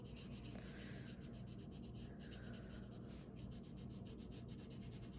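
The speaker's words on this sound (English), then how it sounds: "Now it is time to use this crayon to color in however many toes of feet that you drew." Crayon rubbing across paper while coloring in a cockatoo's toes, a faint, continuous scratchy scribble with quick back-and-forth strokes, close by.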